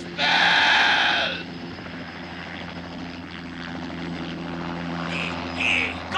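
A cartoon helicopter drones steadily with a low whirring hum under a brief loud bleating tone at the start. A faint voice comes in near the end.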